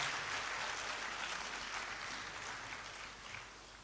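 Audience applause at an induction ceremony for newly qualified physician assistants, a faint, distant wash of clapping that holds steady and slowly tapers.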